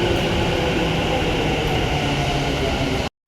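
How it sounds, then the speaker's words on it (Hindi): A metro train rumbles steadily at a station, a loud, continuous broadband roar that cuts off abruptly at the end. "तो अब हम पहुंच चुके थे मेट्रो स्टेशन"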